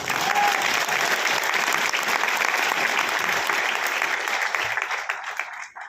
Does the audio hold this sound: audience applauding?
yes